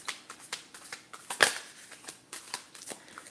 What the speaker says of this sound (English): My shuffling technique is pretty bad today.